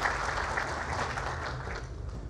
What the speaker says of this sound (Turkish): Alkışlarınızla davet ediyorum.